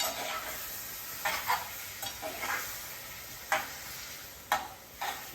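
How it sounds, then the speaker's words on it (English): Fire roasted tomatoes and smoked paprika stirred in a hot pan, a steady sizzle under several scraping strokes of a spoon or spatula across the pan, close by with no voices. "I'm gonna add half a can of fire roasted tomatoes and some smoked paprika. Give that a good stir."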